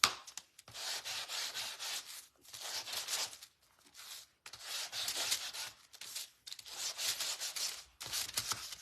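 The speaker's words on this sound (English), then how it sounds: "And I'm sanding these so that I can add back some of that darkness." Close sanding strokes on rattan pumpkin decor rasp in rhythmic bursts, each lasting a second or so, separated by short pauses, with no talking.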